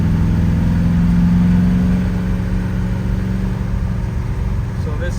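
A 1970 Chevrolet Nova with bigger rear tires accelerating on the road: a loud, steady engine drone heard from inside the car, with a low humming tone that eases slightly as speed builds.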